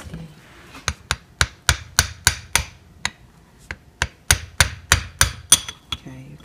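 A hammer taps on a Toyota RAV4 CV axle during a boot replacement, about twenty sharp metallic strikes in two steady runs with a brief pause between them. The strikes are close and crisp.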